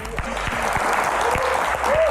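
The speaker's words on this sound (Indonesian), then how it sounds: "Tepuk tangan paling meriah" A studio audience at a talk show applauds Indonesia's Health Minister Budi Gunadi Sadikin, a steady crowd clapping under loud music, with a voice speaking briefly.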